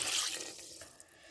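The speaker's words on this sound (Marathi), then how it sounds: "त्याच्यात 2 ग्लास पाणी घालायचं" Water is poured onto basmati rice in a pot for chicken pulao, a brief splashing pour that tapers off into light trickling.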